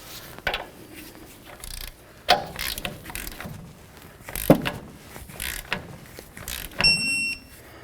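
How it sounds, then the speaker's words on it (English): A ratchet tightens a sway bar nut on the front strut of a 2003-2009 Toyota 4Runner, giving close clicking pawl sounds in short bursts with metallic clanks and a brief high beep near the end. "Take your sway bar nut. We're going to tighten that down to 52 foot-pounds."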